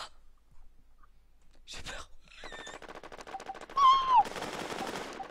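Rapid bursts of automatic gunfire crackle through a battle royale game match, rising to a loud dense volley near the end, with brief exclamations and game sounds mixed in.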